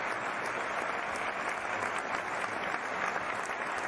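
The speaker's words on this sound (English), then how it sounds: "applause, ladies and gentlemen, for Neofly and for our audience here watching this adventure" Steady crowd applause from the Neofly flight simulator, a dense, even clapping that fills the whole stretch at moderate volume with no voices over it.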